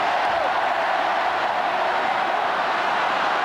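Mayo supporters in a stadium crowd at the 1989 All-Ireland Football Final against Cork give off a loud, continuous roar of cheering that stays steady throughout.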